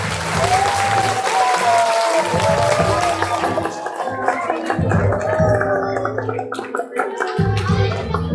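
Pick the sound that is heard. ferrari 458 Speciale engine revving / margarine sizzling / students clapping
students clapping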